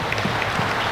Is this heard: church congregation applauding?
yes